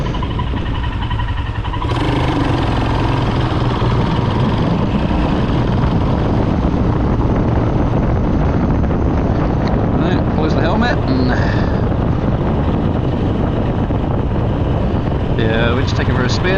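A motorcycle engine drones loudly and continuously while riding, mixed with heavy wind rumble throughout, and voices can be heard faintly beneath the noise.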